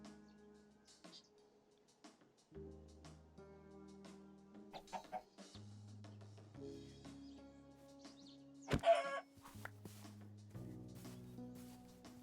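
Chicken clucking in Minecraft, the GregTech: New Horizons modpack, several short clucks scattered over steady game music with a louder burst near the end.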